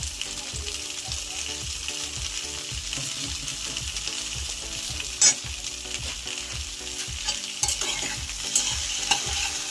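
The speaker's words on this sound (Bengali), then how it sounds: "এখন আমি এই জিরে আর লঙ্কা বাটাটা ফুলকপি আলুগুলোর মধ্যে দিয়ে দেব" Cumin and chili paste sizzles in a pan with cauliflower and potatoes, stirred in a fast scraping rhythm under a constant frying hiss, with a couple of sharper clanks of the spoon.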